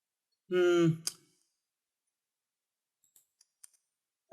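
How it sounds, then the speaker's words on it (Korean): After a short vocal murmur and a click, several faint, quick clicks from a mouse scroll wheel tick in an irregular cluster amid near silence. "마우스 휠을 사용을 하면 되겠죠?"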